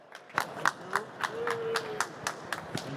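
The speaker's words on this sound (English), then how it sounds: "Give him applause." A small audience at a hydrogen and fuel cell trade fair gives a short round of applause, a sparse handful of separate claps spaced out over a few seconds, fairly close.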